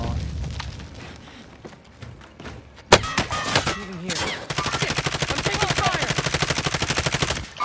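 Gunfire in Call of Duty Warzone: a sharp single shot, a short burst, then a long rapid rhythmic stream of automatic rifle fire, loud and close, over game ambience.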